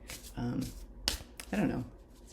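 A deck of oracle cards being shuffled by hand, with quick riffling and snapping bursts mixed in with a person talking nearby.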